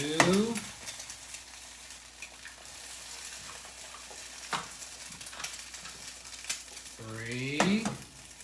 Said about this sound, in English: now we flip the sausages, and then we're going to drop in 3 eggs